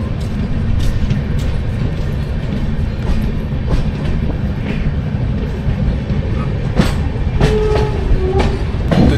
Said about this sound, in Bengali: ট্রেন আমাদের ছেড়ে দিল বর্ধমান থেকে।